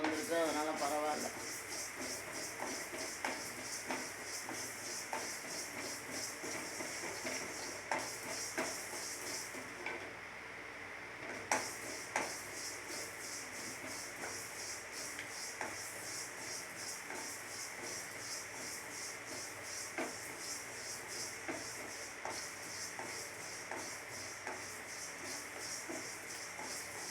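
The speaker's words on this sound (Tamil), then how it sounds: "இந்த கடுகு நல்லா தெரிக்குதா?" Mustard seeds splutter and pop steadily in hot oil as they temper, a dense sizzling crackle with rapid small bursts that runs the whole time at close range and fairly even loudness.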